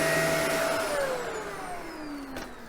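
A Shark Pet Pro vacuum cleaner runs steadily with a loud, close motor whine whose pitch slides gradually downward, the level easing off slightly toward the end.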